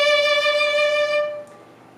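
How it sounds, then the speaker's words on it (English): A single sustained violin note played with vibrato, rich in harmonics, held steadily and then fading away near the end, heard alone and close. "vibrato is that kind of wavy sound"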